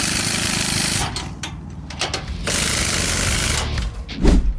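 An impact wrench hammers at the U-bolt nuts of a boat trailer during an on-site roadside repair, producing a loud, steady, rattling burst that breaks off in short pauses before resuming.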